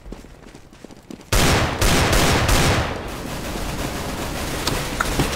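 Heavy gunfire in CS:GO erupts after a quiet opening: dense, loud volleys of automatic and overlapping shots that roar on without a break for the rest of the clip.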